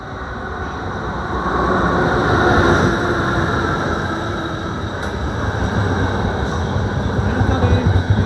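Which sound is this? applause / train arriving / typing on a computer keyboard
train arriving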